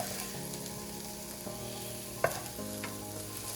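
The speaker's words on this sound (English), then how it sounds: "just sizzling around. You see all the oil is being absorbed." Steady sizzling of mushrooms frying in oil in a pan, a continuous hiss with a sharp clink partway through and no talking.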